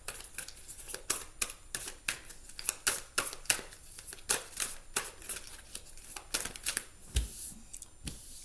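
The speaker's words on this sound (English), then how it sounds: "I'm going to shuffle this again" Tarot cards being shuffled by hand, giving a quick run of crisp riffling and slapping bursts in an uneven rhythm, close and fairly quiet, with no talking.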